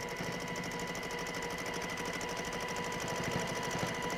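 A sewing machine stitches through the pinwheel section of a quilt block, running steadily and close with a fast, even needle rhythm and no pauses.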